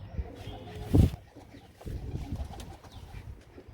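Released pigeons nearby, a short soft burst of cooing and fluttering followed by quieter outdoor rustle.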